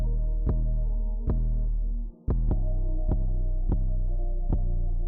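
A Wahl Hi-Viz cordless trimmer hums steadily while trimming neck hair, its motor drone broken by regular throbbing pulses and one brief dip, close and alone.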